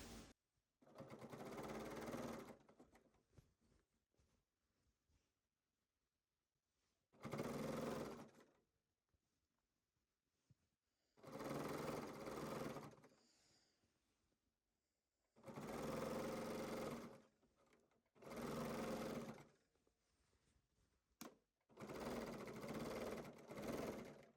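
A sewing machine stitches a quilt's binding seam in six bursts of steady, close, whirring runs, separated by quiet pauses.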